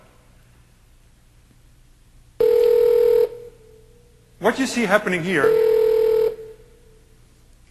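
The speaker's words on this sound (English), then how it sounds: "I'm just going to call him back on my cell phone." A cell phone placing a regular call over a wireless carrier at a Windows Longhorn communications demo, giving steady electronic tones in two bursts with a brief warbling patch between them, as someone speaks.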